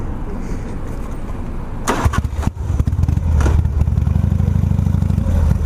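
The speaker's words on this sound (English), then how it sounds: "I'm going to stall my bike" A motorcycle stalls in traffic on a California street, its engine sputtering and clattering briefly before dropping out, then a steady low rumble of nearby traffic or an idling engine fills the rest, close and fairly loud.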